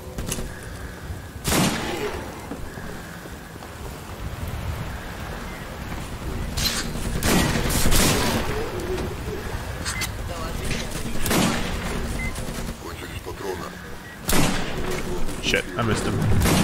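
Shots from a video game gun ring out as a few sharp, widely spaced bursts over steady game noise, with a player talking throughout.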